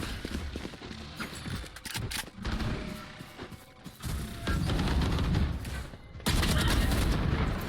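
Gunfire in a Valorant match: dense, overlapping bursts of rapid shots that swell louder toward the end, layered over a busy game backdrop with little talk.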